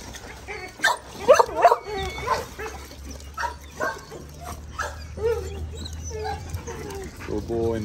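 Dogs at a rural sanctuary yip, whimper and give a few short barks while playing, mixed with close talk and rustling, the dog sounds intermittent and moderately loud.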